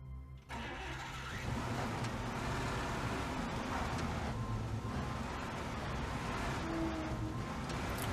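A GAZ-MM truck driving in the IL-2 Sturmovik Battle of Stalingrad game, its engine kicking in after a brief pause and then running as a steady, loud, dense mid-pitched drone with road noise, no speech over it.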